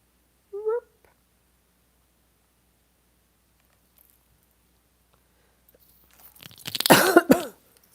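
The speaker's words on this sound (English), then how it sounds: "Excuse me for coughing." After a long quiet stretch with a brief faint squeak early on, one harsh, close cough bursts out near the end.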